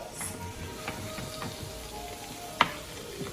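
Vegetables for lasagna sautéing in a pan, a steady low sizzle with faint stirring scrapes and one sharp clack of a utensil against the pan partway through.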